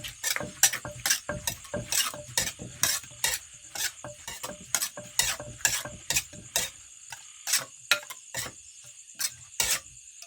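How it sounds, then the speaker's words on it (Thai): Ripe papaya pounded in a mortar, a run of regular thuds with short wet crunches, fast at first, then slowing and spacing out toward the end, close and alone. "ขั้นตอนทีนี้แล้วก็ตำมะฮุงสุกนะ"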